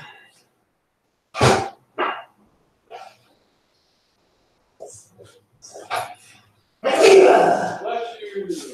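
A person sneezes sharply once, loud and close, in a quiet indoor setting; a few soft vocal sounds and breaths follow, then a louder burst near the end.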